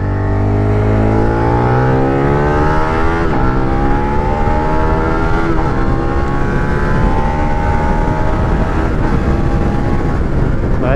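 A Suzuki SV 650 motorcycle accelerating hard through first, second and third gear, its engine note rising steadily in pitch in loud sweeps, with drops at each gear change, heard close and continuous.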